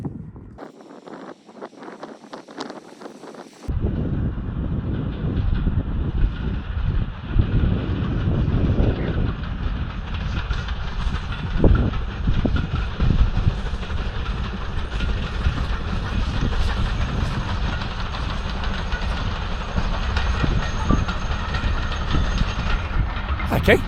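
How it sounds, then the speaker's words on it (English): A passing steam train rumbles loudly on rails under heavy wind buffeting, a sustained low roar with faint rhythmic clatter, after a quieter start with muffled handling noise. "there's a steam train coming"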